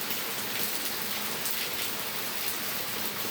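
Heavy continuous rain pours steadily over low-lying streets in Feni, a dense unbroken hiss of drops drumming on surfaces at an even level throughout, with no voices.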